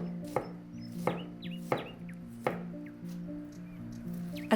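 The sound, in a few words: thinly slicing a head of cabbage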